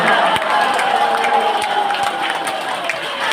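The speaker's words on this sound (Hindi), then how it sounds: "एक बार सब लोग प्रेम से ताली मार के हंस जाओ भगवान के दरबार में" Crowd at a Hindu religious discourse on Krishna and Radha clapping and laughing together, a dense, steady wash of applause and cheerful voices filling the hall throughout, with sharp individual claps standing out.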